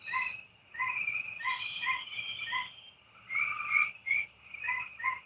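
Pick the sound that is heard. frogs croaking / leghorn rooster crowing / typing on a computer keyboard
frogs croaking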